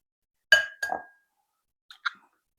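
An egg is tapped against a bowl, making two sharp close knocks followed by two fainter light clinks, with quiet in between.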